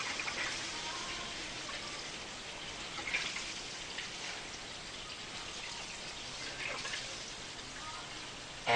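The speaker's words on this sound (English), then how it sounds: "Sounds like the second sump is almost full." The second sump of a whole house water filter filling with water, a moderate, continuous hiss with light dripping and patter, ending in a brief louder bump.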